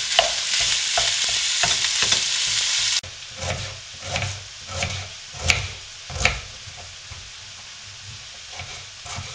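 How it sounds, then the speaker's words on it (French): Minced meat for lasagne sizzling in a pan, a bright steady fry that drops quieter partway through, punctuated by several knocking stirs of a utensil against the pan. "Donc je mets la viande à cuire."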